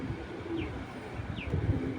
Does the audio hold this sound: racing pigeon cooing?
yes